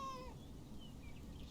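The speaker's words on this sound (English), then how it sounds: "I think that's the cat out, out in there." A cat in the video game Genshin Impact gives one short, falling meow at the start, quiet over a soft steady background.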